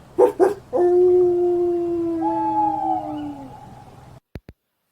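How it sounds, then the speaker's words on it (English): A red fox's long, wavering howl rises and bends for about three seconds after a couple of short yelps, then two brief clicks follow in near silence. "A red fox barked at the moon."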